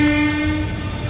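An Okha–Bhavnagar express train pulls into Rajkot station, a steady horn tone sounding over the first half-second above a continuous low, close rumble of the moving carriages.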